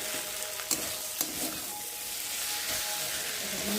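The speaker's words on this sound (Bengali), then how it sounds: "মশলাটা ভাজা ভাজা হয়ে গেছে" Spices and tomatoes fry in oil for a fish curry with potatoes, giving a steady, close sizzle broken by a couple of sharp spatula clicks against the pan.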